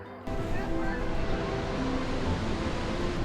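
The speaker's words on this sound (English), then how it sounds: "how this audio actually sounds with the waterfalls falling behind me" Niagara Falls pours in a continuous broadband rush of falling water, steady and fairly loud, filling the clip after a brief quieter start.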